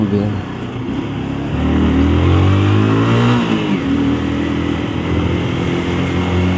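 A car passes close by on a road in the late afternoon, its engine note swelling as it approaches and then fading, heard over continuous traffic rumble.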